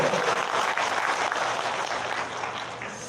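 Audience applause at a senior citizens' job program rally in Korea, a steady crowd clapping that holds fairly loud and then gradually tapers off toward the end.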